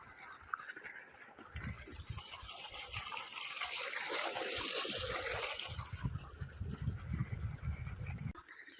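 Irrigation water runs through a sugarcane field outdoors, a faint, steady gurgling trickle with soft splashes that swells slightly midway and continues without talk.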